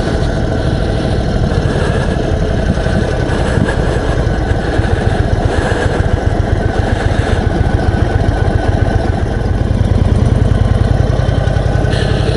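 A 2021 Indian Chief Dark Horse motorcycle engine runs steadily, a loud, close, continuous throbbing rumble that swells slightly near the end.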